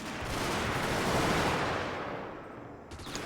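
Massed infantry volley fire in a Total War: Fall of the Samurai battle, with Imperial Infantry exchanging shots: a loud, dense, continuous crackle of musketry that swells and then tapers off toward the end.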